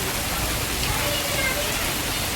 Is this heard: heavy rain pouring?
yes